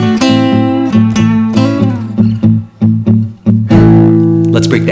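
Electric blues guitar lick built on double stops, two notes ringing together in bending, sliding phrases with a few short gaps, loud and close, ending on a sustained strummed chord.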